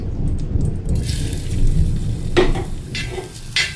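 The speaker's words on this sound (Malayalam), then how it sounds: "നെയ്യ് ഒന്ന് ചൂടായി വരുമ്പോഴത്തേക്കും നമുക്കിത് ഈ തേങ്ങ ഇട്ട് കൊടുക്കാം." Grated coconut dropped into hot ghee in a pan starts to sizzle, a steady close frying hiss with bursts of crackle and rustling stirring, no talking.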